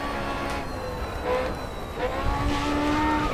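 Racing cars in Grid Autosport roar and whine through an online race, engine tones rising and falling with tyre noise and a rough impact-like scrape near the end, loud and continuous.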